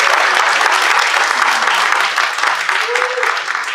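A church congregation at a Korean worship service gives loud, sustained applause, a thick wash of many hands clapping close up with a little voice mixed in.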